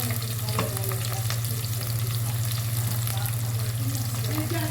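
Onions and garlic fry in a pan for a moringa leaves dish, a steady dense sizzle with a constant low hum running underneath and occasional faint clinks from a utensil, close and continuous throughout.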